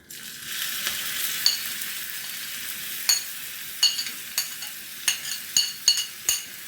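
Chard hits hot oil in a pan with a loud, steady frying hiss, while a spoon stirs and clinks against the pan in irregular knocks that grow more frequent toward the end, close by with no voices.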